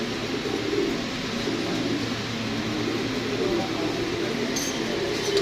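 Pigeons coo softly in a loft, low murmuring calls repeating under a steady background hiss, with a faint clink near the end.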